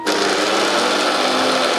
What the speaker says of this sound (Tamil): இப்போ மிக்சியை ஓட்டி காட்டுறேன் பாருங்கள்.